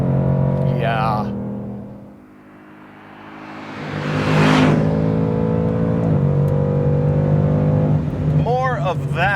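A Ford Mustang Mach 1 V8 rumbles and revs from inside the cabin, the engine note dipping, then swelling into a loud rising rev before settling to a deep steady drone, with voices talking over it.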